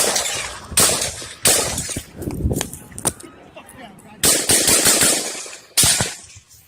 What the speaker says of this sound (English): That's that sniper shot.